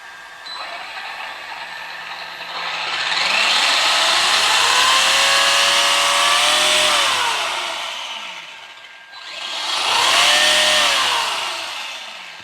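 Arrma Gorgon 1/10 RC car motor spinning up and driving off, a rising mechanical whine that holds, fades, then surges again, loud and close with gear noise.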